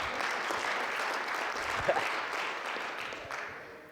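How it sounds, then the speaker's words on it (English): A round of applause from a keynote event audience, a soft, steady wash of clapping heard from some distance, fading slightly toward the end. "give him a round of applause"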